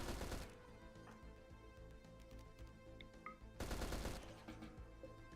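Gunfire in RimWorld at an armored insect: two loud bursts of rapid shots bracket a quieter stretch of faint clicks and small tonal blips.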